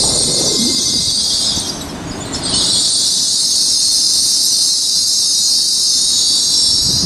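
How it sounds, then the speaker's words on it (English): A Class 387 train arriving at Stevenage, its wheels squealing in a loud, sustained high-pitched whine that dips briefly and then returns over a low rumble. "And there's that one squealing its way in."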